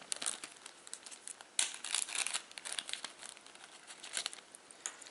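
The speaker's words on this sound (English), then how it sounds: "The packaging I can throw away, but what I do is I tend to keep these little resealable bags" Small plastic packaging crinkles and rustles up close while being opened and handled, a continuous, fairly quiet crackling with a sharper tearing burst partway through and frequent irregular crinkles.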